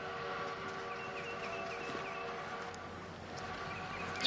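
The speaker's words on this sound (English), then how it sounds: "It's my train." A train in an old Western setting gives a steady, moderately quiet rumble with faint metallic clanks and a brief louder knock at the end.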